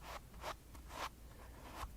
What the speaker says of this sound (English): And this is the sound of the stem of the pumpkin.